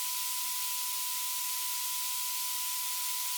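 Steady white noise runs through a sidechain compressor for audio ducking, giving an even, bright hiss with a thin constant tone on top. Its level stays level throughout and no voices are heard.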